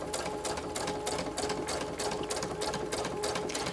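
A sewing machine runs a steady straight stitch around a tote bag, a continuous close whirring hum with a fast regular needle pulse throughout, no talking.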